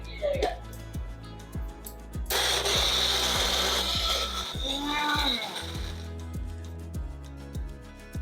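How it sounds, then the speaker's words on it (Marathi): Mixer grinder jar blending onion, garlic, ginger and chili into a paste, a loud steady whirring grind for several seconds with rhythmic clunking around it; someone speaks over part of it. "आता आपण मिक्सरच्या जाडमध्ये भरून"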